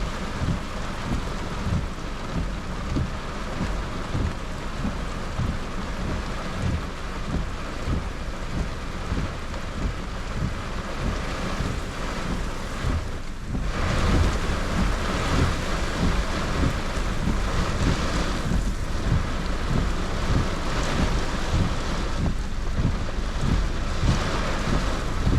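Heavy rain pours steadily from a rain-wrapped tornado storm in Indiana, with rumbling thunder and wind gusts, growing louder partway through and continuing without speech.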